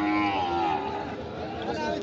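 A one-year-old Sahiwal bull at the Ambari cattle market, giving a low drawn-out lowing near the start amid busy crowd chatter, with people talking throughout.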